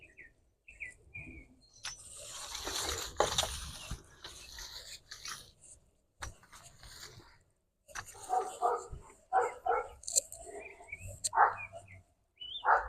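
Sadie, a dog in a garden bed, lets out a series of short yips and barks, loud and close, mixed with rustling and a few bird chirps.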